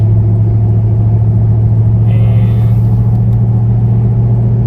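A pickup truck's engine rumbles steadily while driving, a loud continuous low drone heard from inside the cab throughout, with a brief spoken word at the start.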